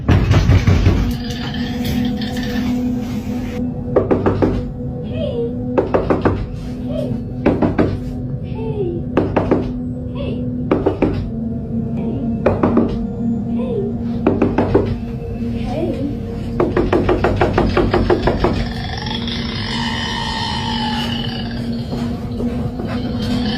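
Repeated knocking comes in loud, close clusters of sharp raps, spaced every few seconds over a low hum, with a person talking throughout.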